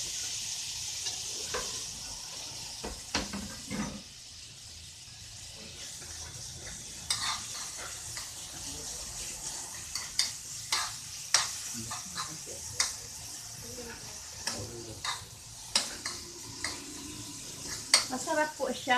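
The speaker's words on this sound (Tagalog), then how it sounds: "Ilalagay na po natin ang karne para mabilis ang luto." Meat frying in a pan while being stirred, a steady sizzle broken by repeated scraping and clinking knocks of the utensil against the pan, close and fairly loud, with occasional faint talk.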